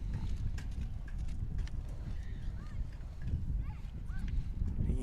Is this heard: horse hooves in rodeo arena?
yes